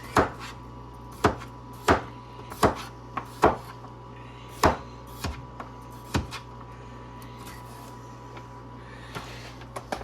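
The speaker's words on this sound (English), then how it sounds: "Just slice it in little slices." A knife cutting through a meatloaf into thin slices on a board, about a dozen crisp, evenly spaced chopping knocks, close and clear, tapering off toward the end.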